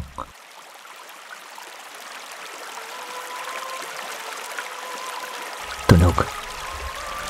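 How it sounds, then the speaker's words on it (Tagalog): Steady running water of a river current, a broad continuous wash close by, with a sudden louder splash or knock near the end. "tunog ng agos ng ilog."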